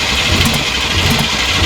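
A BMW E34 with carburetors cranks over continuously, a loud, close, steady churning engine sound with a faint rhythmic pulse and no talking.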